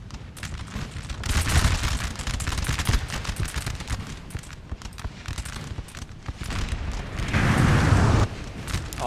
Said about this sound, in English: this cannon fire is just doing a lot of damage to morale